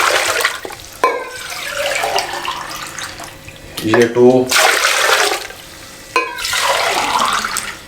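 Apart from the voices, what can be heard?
water being poured into pressure cooker with mutton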